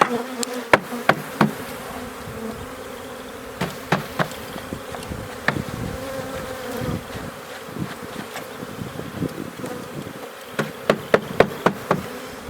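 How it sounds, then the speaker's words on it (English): A steady, dense buzz of a 3-pound package of honeybees, with scattered sharp taps and knocks on the box throughout. "This is 3 pounds of bees."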